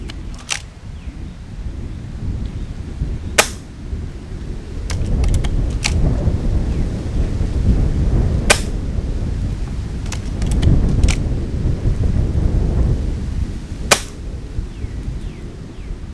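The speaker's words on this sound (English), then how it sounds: "Now, the Swarm Maxxim isn't a loud gun," A Gamo Swarm Maxxim .22 air rifle fires several sharp, short cracks at irregular intervals, each a crisp snap over a low rumbling outdoor background.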